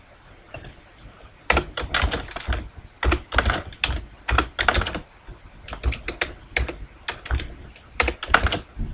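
Typing on a computer keyboard while editing text in Microsoft Visio 2010, with bursts of close, clattering keystrokes in uneven runs and short pauses, no talking.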